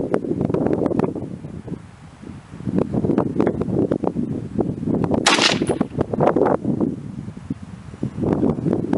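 An M1 Garand rifle fires a reduced load of IMR 4064 powder under a 125-grain Sierra Pro Hunter bullet, giving one sharp outdoor report over gusty wind noise and rustling.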